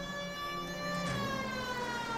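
Police car siren in the L.A. Noire video game, a steady wailing tone with rich overtones sliding slowly in pitch, sounding continuous over low engine and road noise.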